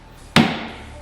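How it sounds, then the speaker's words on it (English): A single sharp whack as a hammer drives a magnetic tip into a hammer head, a crisp metallic strike with a short ringing decay. "Gently slide the tip into the head and give it a whack."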